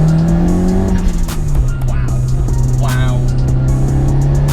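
A 400 bhp Nissan Pulsar GTI-R drives hard on a road, engine note rising and falling through gears with a tire squeal; a voice exclaims briefly over the loud engine.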